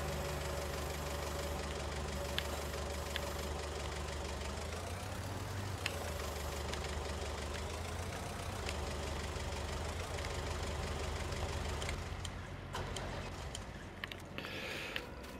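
A John Deere tractor engine idles steadily in Farming Simulator 19, a constant mid-pitched knocking rumble with slight variations and a few faint clicks near the end.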